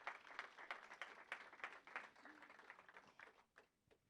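Faint applause from a small audience at a French workplace prevention colloquium, a few seconds of light, uneven clapping that thins out near the end.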